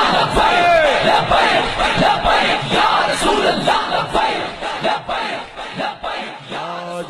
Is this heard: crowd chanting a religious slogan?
yes